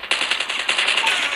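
Rapid, steady submachine gun fire in Call of Duty Mobile during a 2v2 match, a loud, close burst of evenly spaced shots that continues without a break and has no talking over it.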